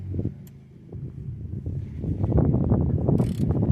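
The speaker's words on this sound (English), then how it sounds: "I need a 10mm socket to remove these caliper bolts." A ratchet turns a 10mm socket to loosen the caliper bolts on a 2007 Ford F-150 during a rear brake job, giving a busy, close run of clicking and grinding that builds steadily louder, with no talk.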